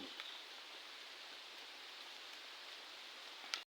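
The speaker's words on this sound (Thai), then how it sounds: "ทุกคนฝนก็มาถึงนะครับ" Soft, steady rain hisses evenly throughout, faint and continuous, with a brief tap near the end before it cuts off.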